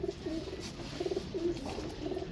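Pigeons in a loft of paired birds coo repeatedly, their low, throaty calls rising and falling in a steady rhythm, close by with no talk.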